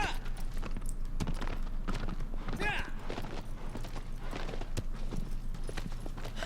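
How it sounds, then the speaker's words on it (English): Clip-clop hoofbeats of Agro, the horse in the video game Shadow of the Colossus, trotting steadily throughout over a constant game soundscape, with no talking. "Aggro's such a good horse."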